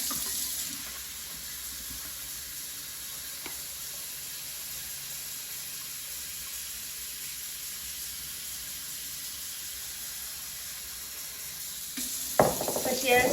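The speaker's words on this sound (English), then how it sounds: "now I'm going to fill the bowl with cold water." A steady, hissing stream of cold tap water pours into a bowl of frozen shrimp, continuous and close, ending with a brief clatter.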